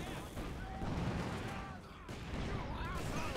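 Explosions and gunfire from the World War II strategy game Company of Heroes 2 rumble steadily at moderate level, with scattered bursts and blasts under a commentator's voice.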